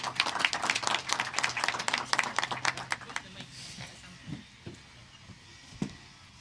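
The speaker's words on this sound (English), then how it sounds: "A round of applause to them." A small audience claps briskly at an ISWA Africa waste conference session, a few seconds of fairly close applause that thins out to scattered isolated claps.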